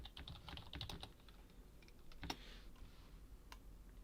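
Keys clatter on a computer keyboard as a file name is typed into a SolidWorks save dialog, a quick burst of close clicks followed by a few sparse single taps.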